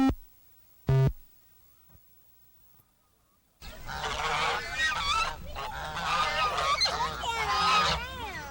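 Waterfowl on a university duck pond in Oklahoma, a dense, continuous chorus of honking and quacking that swells after a brief quiet start, loud and close.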